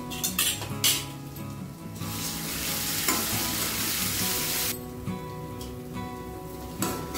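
Spices and raw cumin seeds fry in hot oil in a pan, a steady loud sizzle with scraping stirs and occasional clinks of a metal spoon against the pan, no talking.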